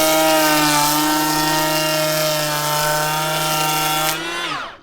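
A Makita 18V cordless planer (XPK02Z) running steadily with a loud, high whining tone, then spinning down as the motor winds off at the end.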